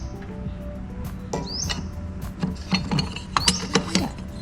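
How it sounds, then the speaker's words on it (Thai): Someone loosens a nut and fits the guide onto a Makita M1100KX1B 3-inch 750 W electric planer. Close, small metallic clicks and ratcheting taps grow sharper and more frequent toward the end. "เราก็คลายน็อตฝั่งนี้ออกเนาะคลายน็อตตรงนี้ออกก่อนนะครับ แล้วเราก็เอาตัวประคองเนี่ยใส่เข้าไปนะครับ"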